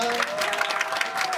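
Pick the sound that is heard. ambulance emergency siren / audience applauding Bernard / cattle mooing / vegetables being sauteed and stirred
audience applauding Bernard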